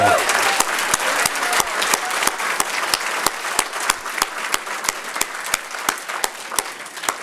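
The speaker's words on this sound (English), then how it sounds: "everybody here should give a big round of applause to Mr. Scott Brown, a genuine American hero." Crowd applause at a taxpayers' political gathering, settling into sharp, evenly spaced rhythmic claps that keep a steady beat over a softer wash of hands for several seconds.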